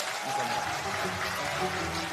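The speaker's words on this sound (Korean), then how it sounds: "다시 한번 큰 박수 부탁드립니다" Crowd applause at a Democratic Party political rally in Gyeonggi, a steady broadband wash of clapping for a local city council speaker, sustained and fairly even throughout.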